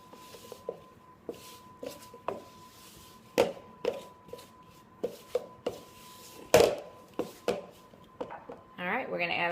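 A spoon clacks and scrapes through buttermilk biscuit dough in a bowl, with irregular sharp taps and knocks scattered across the clip, closer and louder in spots, over a faint steady hum and some background talk.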